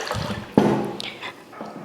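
A short splash as water is poured into a container of uncooked rice, a sudden gush followed by a softer trickle, close and brief.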